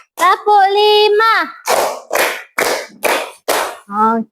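A classroom of third graders plays a counting clapping game during an Islamic lesson on fasting; a short group chant leads into five loud, regular claps in unison, and the voices return at the end.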